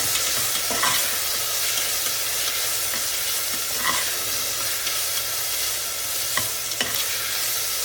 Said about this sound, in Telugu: ఈ జింజర్ గార్లిక్ పేస్ట్ కొంచెం పచ్చి వాసన పోయే వరకు ఫ్రై చేసుకుందాం.